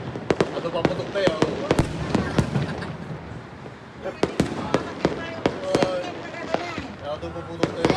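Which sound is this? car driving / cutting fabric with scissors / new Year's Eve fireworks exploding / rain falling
new Year's Eve fireworks exploding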